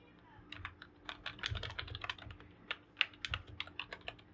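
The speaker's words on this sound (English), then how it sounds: "I did not really like typing in here" Typing on a computer keyboard in the Atticus writing editor: a close, irregular patter of crisp key clicks with occasional heavier strikes, no voices.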